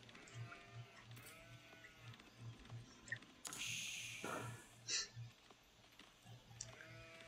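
Sheep in Age of Empires 4 bleating several times in a quiet in-game scene, with a soft repeating thud underneath and a brief burst of louder noise partway through, and no talk.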